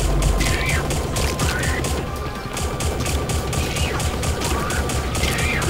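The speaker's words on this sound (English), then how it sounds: "Why didn't I use the plasma gun before?" A plasma gun in a sci-fi video game fires rapid, sustained bursts, a dense continuous barrage with repeating swooping tones layered over it.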